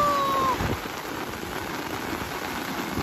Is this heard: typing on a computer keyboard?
no